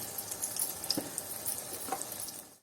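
Spices and green chillies frying in oil for an okra curry, a soft, close sizzle with a couple of light stirring clicks over a short stretch.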